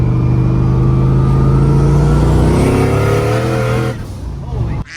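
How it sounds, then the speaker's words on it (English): Turbocharged Foxbody Mustang on a stock bottom end winding up hard in third gear under 15 pounds of boost, a loud, sustained rising engine howl from inside the car that drops off sharply near the end. "Let's go to third, wind it up a little bit, and just see what we've got boost-wise."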